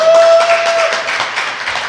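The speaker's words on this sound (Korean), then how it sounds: "박수입니다." Clapping in a studio, several hands applauding briskly and close, fairly loud at first and easing slightly toward the end.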